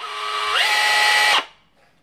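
Bosch GBH 187-LI cordless rotary hammer tightening its chuck onto a 1.5 mm drill bit: a loud, close motor whine that rises in pitch after half a second, holds steady, then cuts off abruptly.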